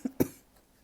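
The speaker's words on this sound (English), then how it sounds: "what kind of cough was that?" Two quick coughs from one person, a short first burst followed by a stronger second one, close and fairly quiet, then silence.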